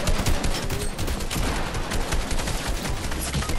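Rapid, dense bursts of gunfire in the video game Fortnite crackle continuously, overlapping shots forming a chaotic fusillade at close range.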